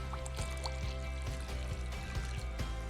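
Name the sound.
water poured into tofu sauce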